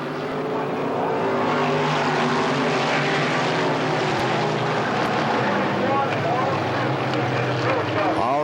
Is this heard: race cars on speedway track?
yes